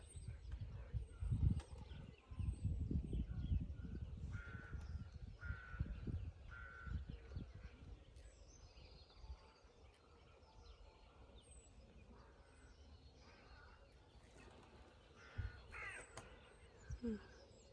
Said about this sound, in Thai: นกกำลังออกหากิน